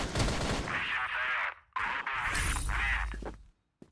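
Gunfire rings out in a Crossfire online shooter match on the Ankara map, with sharp shots in clustered bursts, a brief silent gap, then more shots before fading.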